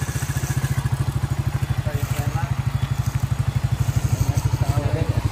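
Motorcycle engine idling with a fast, even, chugging pulse, close and loud, holding a steady beat with slight swells, with faint sounds in the background.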